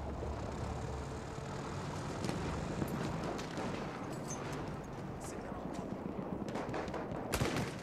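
Gunfire and explosions from the World War I shooter Battlefield 1 crackle faintly in a busy, dense mix, with scattered shots and rumbling blasts beneath a vehicle engine drone, while a player talks.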